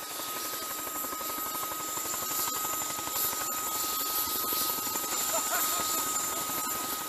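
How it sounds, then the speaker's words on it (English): Two military CH-46 Chinook helicopters haul gear to an Arctic drilling rig, a steady, dense rotor thump and turbine whine droning continuously at moderate distance without pause. "The military deployed 2 CH-46 Chinook to haul gear to the rig."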